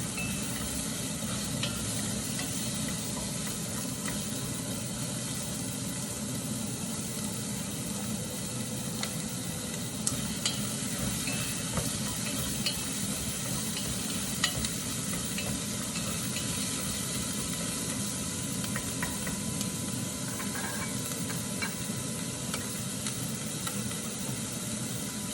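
Onion and garlic sautéing in a pan, giving a steady close sizzle with the scrape of stirring throughout and no talking.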